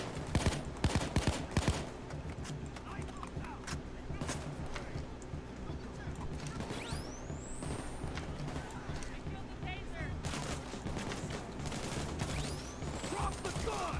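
Gunfire rings out repeatedly in a tense firefight, sharp shots clustered early and recurring throughout amid constant shouting voices and busy action noise.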